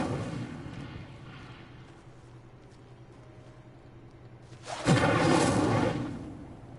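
The Incendio fire spell cast in the video game Hogwarts Legacy: a sudden loud fiery whoosh with a burst of roaring flame that fades over a second or two, following quieter game ambience.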